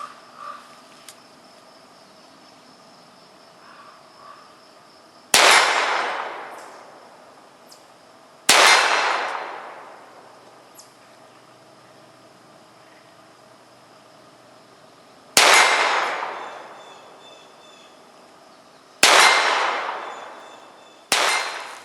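Four sharp gunshots crack out loud and near, spaced several seconds apart, each trailing off in a long decaying echo, heard through Howard Leight Impact Sport electronic earmuffs over quiet insect chirping.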